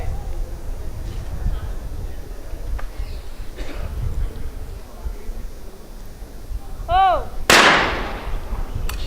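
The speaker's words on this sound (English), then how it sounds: "She's beginning to shoot with a great rhythm." Shotgun fire in a women's trap shooting final at an ISSF World Cup in New Delhi, with one sharp, loud blast standing out near the end over a steady outdoor background and some faint voices.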